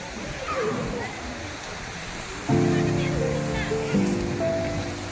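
Sea waves washing onto Pondicherry beach, a constant broadband roar of surf, with a louder stretch of wave noise and tonal background sounds entering midway.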